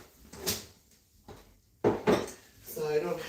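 Dishes being put away in a home kitchen, with a few clattering clinks of plates and cutlery and a thump like a cupboard, close and moderately loud, mixed with background voice or music.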